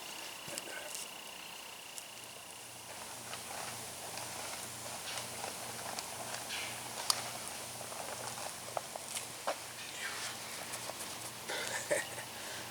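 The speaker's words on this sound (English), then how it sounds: "just let it simmer for about an hour" A pot of red beans simmers on a stove, giving a soft, steady patter of small bubbles that pops faintly and continuously at close range.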